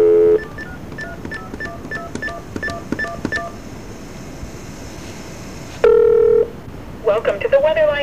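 A recorded phone menu plays a series of short keypad tones and beeps, with a steady line hiss between them and a louder tone burst near the end.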